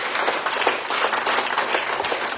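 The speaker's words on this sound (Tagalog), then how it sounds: "pumalakpak sa Panginoon" A church congregation claps together in a steady, dense wash of applause, continuous and fairly loud, with no talk on top.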